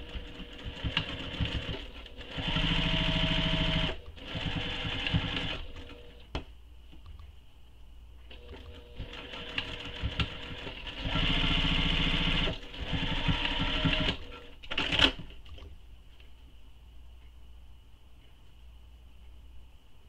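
A sewing machine top stitches the long straight edge of a clutch bag, running in two long steady bursts and a few shorter ones, close and clear, with pauses and clicks between.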